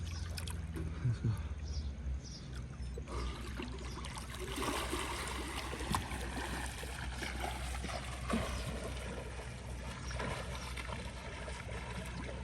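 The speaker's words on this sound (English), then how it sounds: "swimming session done." Continuous churning water and splashing from someone swimming laps during a triathlon training session, a steady rushing wash with occasional stronger surges and muffled voices faintly in the background.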